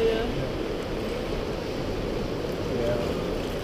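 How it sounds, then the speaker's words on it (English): Waves wash onto the Atlantic beach at Knokke-Heist, Belgium, a steady broadband surf roar mixed with wind buffeting the microphone. "Just listen to the water, you will understand yeah, the language."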